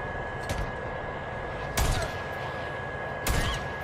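Three sharp gunshots in the video game Days Gone ring out several seconds apart over a constant noisy background hum.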